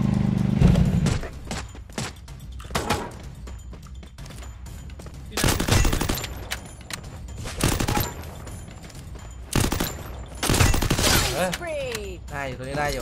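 Gunfire in the video game Free Fire, with bursts of rapid automatic shots arriving in several clusters and quieter gaps between them, while a voice talks over parts of the action.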